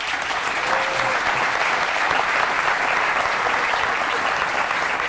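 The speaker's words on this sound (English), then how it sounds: "Let's give Bill a big round of applause." A Startup Grind audience in Silicon Valley applauds steadily, a dense, even wash of many hands clapping at once that holds at constant loudness throughout with no voices on top.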